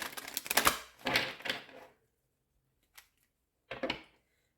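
Tarot cards shuffled and drawn during a reading, bursts of rapid riffling and flicking followed by a pause, a single soft tap, then another short shuffle, close to the microphone.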